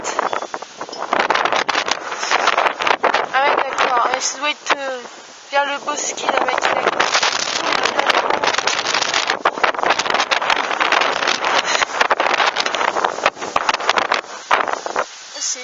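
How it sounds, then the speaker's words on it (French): Strong gusts of wind from storm Hans in Tour-en-Sologne roar loudly and almost continuously across the microphone, with brief lulls, while people talk over the noise. "on a des rafales encore plus fortes que dans l'Indre-et-Loire"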